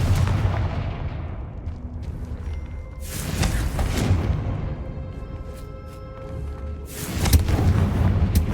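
A Confringo fire spell explodes in Hogwarts Legacy, making heavy booming blasts at intervals, three strong bursts with a rumbling, thudding tail between them.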